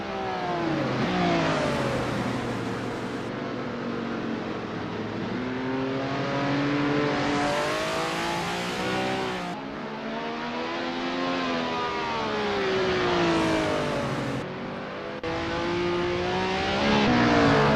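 Racing engine of a 1967 GPL McLaren M5 in Assetto Corsa, loud and continuous, with repeated revving climbs and drops in pitch through gear changes and corners, cutting off briefly at shifts, alone without talk.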